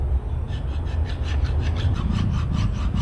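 A hand sanding block being worked back and forth over a Willys CJ-2A Jeep engine block surface, a continuous loud gritty rasping with quick steady strokes, close up and uninterrupted, no talk.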